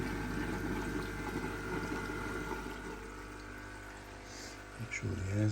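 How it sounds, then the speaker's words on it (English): Water runs into the upflow filter of a koi pond, a low, continuous pouring and gurgling with a faint steady hum, ending in a few louder splashes and knocks. "You can hear the water coming in."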